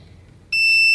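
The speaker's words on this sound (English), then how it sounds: "I'm gonna use the multimeter with continuity buzzer. So I'm just gonna go through and I'm gonna probe all the fuses." Multimeter continuity buzzer sounding while probing fuses, a single steady high-pitched beep that starts halfway through and holds to the end.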